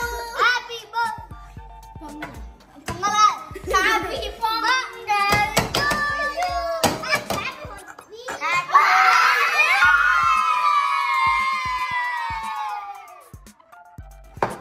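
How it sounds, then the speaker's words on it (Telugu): Children shout and scream excitedly at a birthday party where a cake is being made with kids, with loud overlapping voices, bursts of clapping and a long shrill stretch of high-pitched screaming near the end. "మీ అరుపులకి భయం వేస్తుంది."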